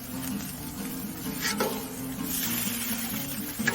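Steak, green chile and onion hit a hot Blackstone griddle, producing a dense, steady close sizzle with a few scraping stirs on top and no voices.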